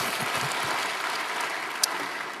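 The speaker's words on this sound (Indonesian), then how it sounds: "Berikan tepuk tangan kita untuk Tuhan kita." Congregation in a church clapping together as a worship service continues, a steady wash of applause at a moderate distance with no voices standing out.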